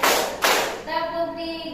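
Two loud broadband claps in a row, about half a second apart, followed by a sustained tonal ringing sound.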